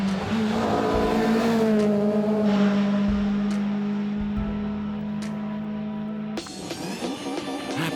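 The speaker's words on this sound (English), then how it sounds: "their car crossing the finish line in P1 in the SP3 class" A 2021 SP3-class race car at the Nürburgring drones loudly at steady high revs, its engine note holding up close before a sharp shift and a rougher burst of noise near the end.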